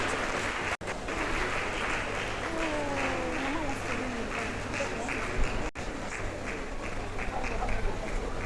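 Steady applause from a seated audience at a Women's Day gathering runs the whole stretch, a thick uninterrupted clatter of clapping with faint voices and sliding tones briefly audible beneath it.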